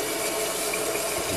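Tap water runs steadily into a container in a home kitchen, a continuous close, even splashing hiss with no talking.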